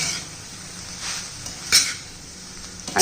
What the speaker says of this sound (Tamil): எல்லாத்தையும் நம்ம மிக்ஸ் பண்ணிக்கிறோம்